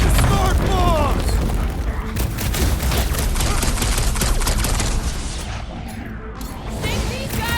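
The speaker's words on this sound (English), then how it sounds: "Bust out the smart bombs!" Smart bombs going off in the Guardians of the Galaxy video game, a loud barrage of rapid booming blasts and crackling impacts layered over battle effects, with voices talking over the chaos.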